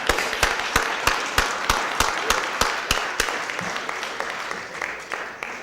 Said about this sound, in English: Let's give Ms. High C a big round of applause.